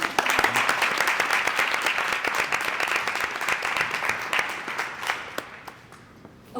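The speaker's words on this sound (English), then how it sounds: "So let's have a round of applause for her." Audience at a panel event on AI and journalism applauds to welcome a speaker, a sustained round of clapping that gradually tapers off into a few last scattered claps.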